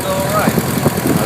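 Steady engine drone inside a 1967 Cessna 150 as it taxis with the throttle pulled back, a low, even hum filling the cabin beneath a person speaking.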